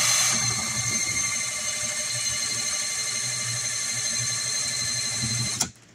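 A small electric drill spinning a wind turbine gives a steady, high-pitched electric whine with a low buzzing hum for several seconds, then cuts off abruptly near the end.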